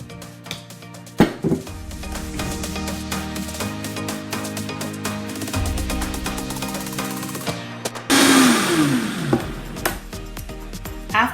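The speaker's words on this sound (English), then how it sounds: "So we're going to put those back in our blender" A blender whirs steadily blending oats with cold water, a dense mechanical drone, then revs up harder near the end with a rising, churning whine.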